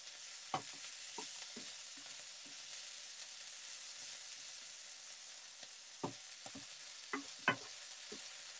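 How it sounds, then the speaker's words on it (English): Chicken and plums stir-frying in a pan, a soft continuous sizzle with scattered clicks and scrapes of a utensil stirring, a few sharper knocks near the end, fairly quiet. "Add the plums to the pan with the chicken, stir fry until the plums start to colour for one to two minutes."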